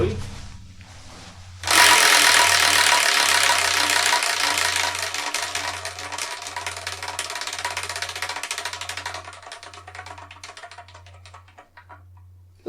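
Prize wheel set spinning with a sudden start, a rapid loud ratcheting clatter of the pointer against the pegs that gradually slows and fades toward a stop, with a low periodic thump underneath.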